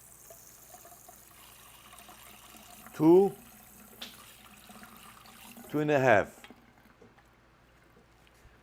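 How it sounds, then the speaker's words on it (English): Tap water runs into a bowl set in a sink at a hair salon, a soft steady trickle sitting low beneath a voice as she counts. "I'm having the bowl in a sink, you can see it. I can fill this water"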